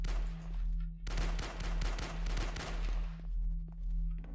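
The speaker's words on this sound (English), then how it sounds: "I'm shooting him in the head" Rapid bursts of pistol fire in the Roblox survival game Alone: a dense cluster of sharp, loud shots packed between stretches of steady background hum.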